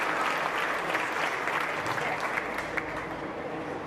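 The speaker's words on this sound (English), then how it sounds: "Give him a round of applause." An audience at a county livestock showmanship event applauding a contestant from North Putnam High School, steady loud clapping that lasts the whole stretch, with faint voices underneath.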